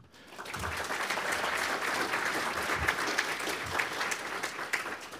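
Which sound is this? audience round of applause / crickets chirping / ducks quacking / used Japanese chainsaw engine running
audience round of applause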